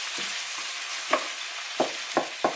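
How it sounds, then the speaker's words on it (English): Onion and garlic frying in a stone-coated non-stick pan, giving a loud, continuous close sizzle broken by a few short stirring scrapes. "We're just gonna let the onion and garlic cook."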